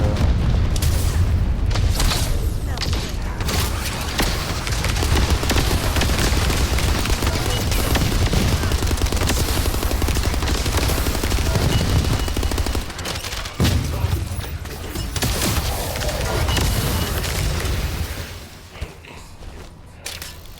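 Dense video-game combat goes on continuously for about eighteen seconds: rapid gunfire bursts mix with heavy booming explosions, then the barrage thins out near the end.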